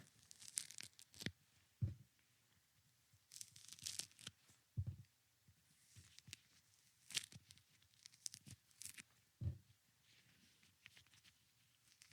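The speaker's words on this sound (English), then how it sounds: "This is the peeling of an orange." Orange peel being torn and pulled away from the fruit in close, quiet bursts of tearing and crinkling, with soft thumps and pauses between pulls.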